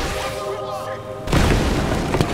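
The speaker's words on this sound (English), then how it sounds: "I actually don't know if I blew him up with the RPG" RPG rocket explosion in GTA Online, a sudden loud boom cutting in after a droning stretch of game sound, followed by a sustained rumbling blast with a few sharp crackles near the end.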